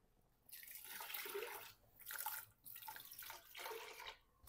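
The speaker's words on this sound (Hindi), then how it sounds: "अब हम इसमें पानी शामिल कर देंगे।" Water poured into a cooking pot of turnip and meat stew, a steady splashing liquid stream in several bursts with brief pauses between, close and moderately quiet, with no talking.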